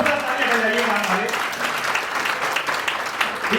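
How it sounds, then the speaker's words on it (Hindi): Audience applause at a Hindi-language insurance awareness event, a dense, steady wash of clapping held for several seconds with a voice speaking over the top. "जोरदार तालियां बजाइए मान वाले।"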